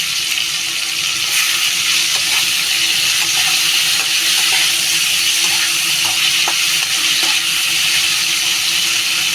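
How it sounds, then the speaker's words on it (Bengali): Food frying in a pan while a raw chickpea curry is cooked: a continuous broadband sizzle and hiss, close and steady, with a few faint clicks scattered through it and no voices. "এটা একটু ভালো করে ভেজে নেবো"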